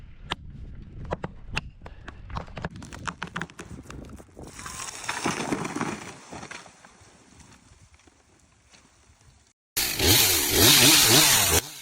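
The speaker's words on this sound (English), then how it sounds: "armed with the powerful steel MS-362 chainsaw. With calm precision, he begins to cut into the tree's trunk" A loud MS-362 chainsaw roars and bites into a tree trunk, preceded by irregular knocking and clattering; the saw's whine surges and drops before a final intense burst.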